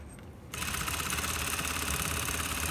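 An electric sewing machine runs steadily at speed, stitching a lined dress in one continuous, even mechanical whir after a quiet start.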